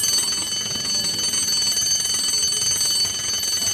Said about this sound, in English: Suddenly, she heard the bell.